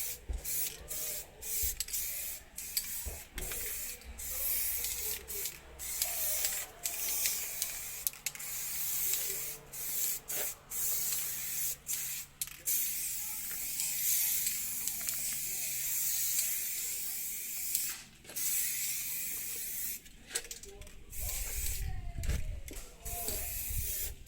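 Aerosol spray paint applied to Renault Kangoo wheels: repeated hissing bursts of varying length with short pauses between, close and fairly quiet, with occasional rubbing and handling noises.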